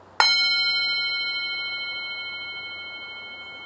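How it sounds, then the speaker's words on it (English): A singing bowl from India is struck once, giving a bright metallic ring with several clear overtones that hums on and slowly fades over a few seconds in a quiet room. "I have a singing bowl here. It's actually from India."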